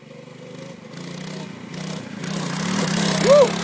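A Baja trail hopper minibike rides a trail at night, its small engine droning steadily close by and building louder toward the end, with a brief whoop of excitement near the close.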